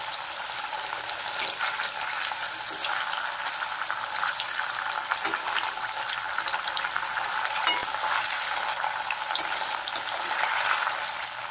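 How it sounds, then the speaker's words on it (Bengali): Pieces of paneer frying lightly in hot oil in a pan, giving a loud, continuous close-up sizzle that holds steady throughout with faint crackles and no voices. "পনিরগুলো হালকা করে আমরা ভেজে নিচ্ছি।"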